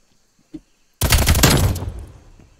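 Gunfire in the shooter game Black Ops Cold War: after a small tap, a loud burst of rapid shots hits at once and then fades into a decaying echo.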